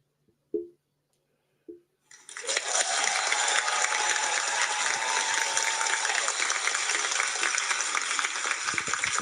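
Canned applause effect played during a podcast, starting after two short thuds and then a steady, loud wash of crowd clapping that runs for about seven seconds before cutting off abruptly.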